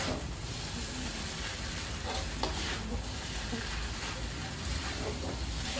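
Noodles cooking in a pan for a Mauludan celebration, with a steady, faint sizzle and occasional stirring scrapes and clinks running throughout.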